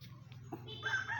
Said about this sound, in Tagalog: Mga manok at pato nag-aantay ng makakain.